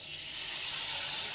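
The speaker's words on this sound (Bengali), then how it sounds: "একটা কালার আসার পর এবার কিন্তু দিয়ে দেবো সেই বাটি ধোয়া জল।" Bowl-rinsing water poured into a hot pan of curry sends up a steady, close broadband hiss of steam that holds evenly for its short length, with no one speaking.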